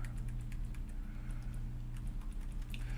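Keys on a computer keyboard are tapped in quick irregular bursts of light clicks, fairly faint over a steady low electrical hum, with no one speaking.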